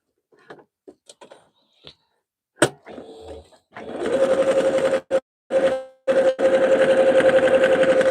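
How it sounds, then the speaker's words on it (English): A sewing machine stitches fabric soup bowl cozies close by, running in loud steady bursts with brief pauses between them, after scattered handling clicks and knocks. "Just keep sewing"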